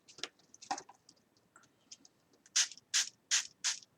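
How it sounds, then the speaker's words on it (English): Hand-pump spray bottle misting a hand and craft supplies, heard as several sharp, close hissing spritzes, a few softer ones first and then four strong evenly spaced bursts. "I'm spraying my hand. I'm spraying everything."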